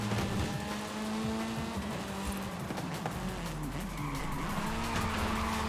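A rally-style car drifts through a corner in the video game Forza Horizon 5, its tires skidding and squealing over a loud, steady engine roar.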